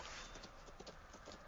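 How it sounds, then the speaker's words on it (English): Horse hooves clip-clopping steadily as a single horse approaches, a close, even rhythm of hoofbeats with no voices over it. "That doesn't sound like a Black Rider's horse."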